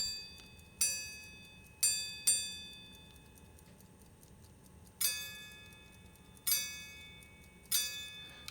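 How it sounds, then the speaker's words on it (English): A quarter repeater watch strikes two quick pairs of high chimes, then after a pause three evenly spaced chimes follow, each a bright, ringing metallic strike decaying away, quiet and close, with faint mechanism whir between. "you heard the 3 chimes at the end to mean 45 minutes"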